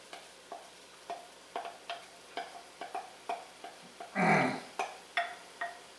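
Sauerkraut, onion and mustard greens being stirred into a hot pot for split pea soup, with regular spoon taps and scrapes against the pot and a brief burst of sizzle partway through, close and fairly quiet.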